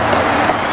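A brief burst of crowd applause at a Partai Demokrat political rally for party chairman Agus Harimurti Yudhoyono, dense and loud clapping from a large audience.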